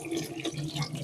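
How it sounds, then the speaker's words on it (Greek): Tap water runs steadily into a sink while figs are rinsed, a continuous splashing wash with no talk. "ανοίγουμε το νερό"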